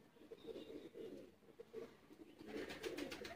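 Lakha breed pigeon cooing up close, soft repeated throaty coos in a rolling rhythm over a quiet background, with no one talking.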